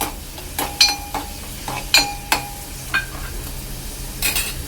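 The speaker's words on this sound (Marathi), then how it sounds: "कांदा तेलावर चांगला परतून घ्यायचा आहे।" Finely chopped onion sautés in hot oil for a dry drumstick and potato curry, with spoon scrapes and metallic clinks against the pan cutting through a low steady sizzle.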